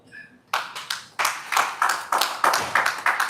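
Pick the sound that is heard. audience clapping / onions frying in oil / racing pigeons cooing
audience clapping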